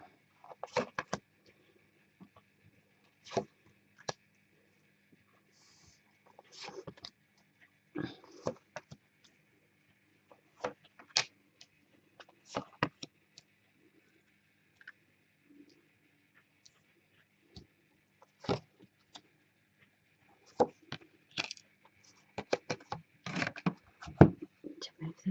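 Tarot cards are shuffled by hand during a reading, giving quiet, intermittent papery rubs and soft taps spread across long stretches of near silence.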